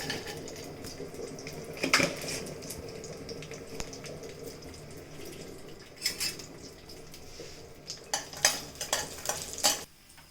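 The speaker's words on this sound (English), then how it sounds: "first frying my dry fruits. Kaju, kismis, and some slices of sliced almonds" Cashews, raisins and sliced almonds fry in a pan for temple-style chakrapongali, a soft continuous sizzle broken by clattering stirs, bunched more densely toward the end; no talking.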